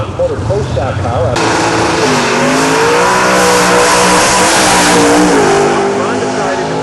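Drag race car accelerating hard down the track, a loud sustained engine roar with rising pitch, close and continuous, with a commentator talking over it.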